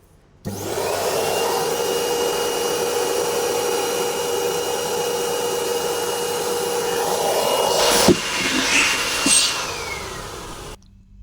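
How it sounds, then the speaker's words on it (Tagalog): A vacuum cleaner runs steadily and close for about ten seconds, sucking loose toner off the top of a Ricoh MP C4503 copier developing unit, with a couple of brief knocks near the end before it cuts off. "Papahigop natin ng vacuum tong ibabaw kasi puro toner."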